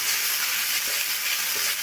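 Chicken momo filling stir-fries in a pan over a gas flame, drying out as it cooks, with a steady close sizzle and faint scraping of the stirring spoon throughout.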